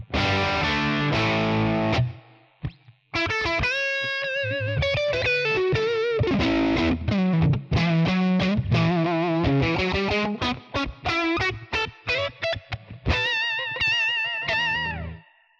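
Electric guitar played through a Tonex One G40 amp capture with reverb added, a warm distorted tone in a steady phrase of chords and single notes, close and loud with brief pauses and ringing tails.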